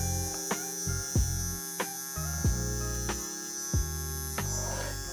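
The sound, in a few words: electric hair clipper cutting hair, moving top to bottom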